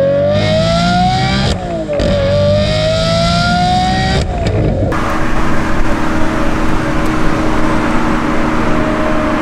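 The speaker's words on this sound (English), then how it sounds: "The Murcielago is just an out-and-out stupid supercar, V12 thrills without any of the practicalities." A Lamborghini Murcielago V12 supercar engine revs up loud and close, climbing in pitch twice and dropping off. It then settles into a rough, steady roar.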